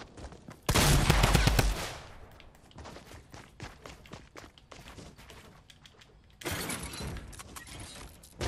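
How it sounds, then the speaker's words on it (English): Shotgun blasts in the Fortnite video game, a loud close burst of gunfire followed by scattered clicks and footsteps, then a second heavy blast near the end. "What shotgun hits that hard, my nigga?"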